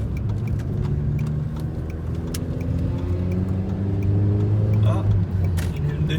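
A BMW M2 passing on a road near the Nürburgring, its engine note rising and falling under the hum of the car doing the filming, with people talking inside the cabin.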